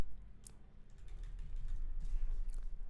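Quiet keystrokes tap on a computer keyboard in a few scattered, soft clicks under a low hum, with no talking.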